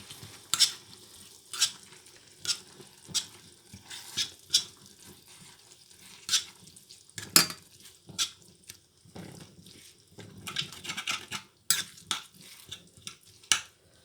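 Vegetables cooking in a pan for pasali masiyal, a quiet, steady sizzle broken by scattered stirring clinks and taps of varying loudness.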